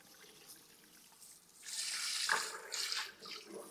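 Water is pumped out of a waterjet cutting table tank, starting as a faint trickle and then swelling into a louder gushing splash partway through, with no speech.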